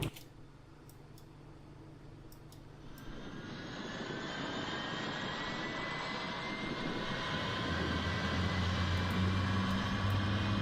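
A Boeing 777 jet engine spins up during start in a flight simulator, a rising whine and roar that builds steadily louder over several seconds, with a few faint clicks early on.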